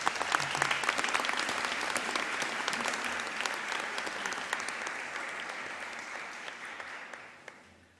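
A school hall audience at a girls' high school awards ceremony applauds the recipients with sustained, dense clapping that stays strong and tapers only slightly toward the end.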